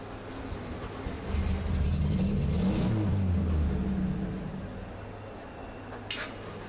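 A Volvo 240 in the RaceRoom racing game at the Macau circuit drones with a steady engine note. It swells into a louder revving stretch midway, then settles back, with no voices over it.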